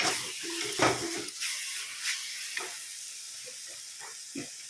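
Onions fry in oil for a spiced egg gravy, a soft continuous sizzle and hiss with occasional stirring clatters of a pan, close and moderately quiet.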